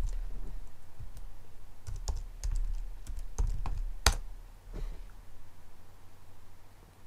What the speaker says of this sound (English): let's go to our browser and type in localhost 3000/posts